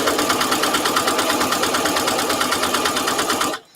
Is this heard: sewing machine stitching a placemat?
yes